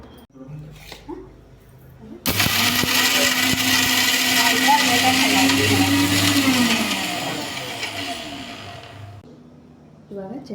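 A mixer grinder whirs loudly while blending chutney with cumin, sugar and roasted gram, running steadily for about seven seconds after a brief quiet start with faint voice, then winding down as a voice resumes.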